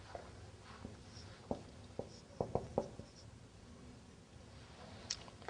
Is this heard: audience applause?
no